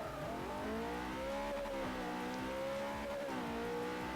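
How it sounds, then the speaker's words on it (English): A car in the racing game Forza 4 revs and accelerates, its engine note rising and dipping as it brakes and corners, loud and continuous with faint tire noise. "We're going to accelerate down to the last corner, braking, turning in, foot on the throttle"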